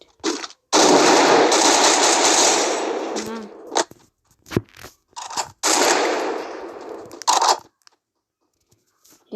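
Loud bursts of rapid video game gunfire, two long sustained volleys broken by short sharp shots and pauses, ending in near silence.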